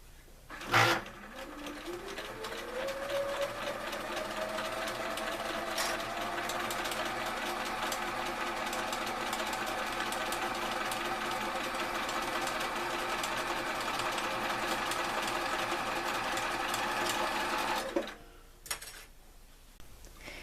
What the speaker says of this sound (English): I am starting by sewing the lantern body together.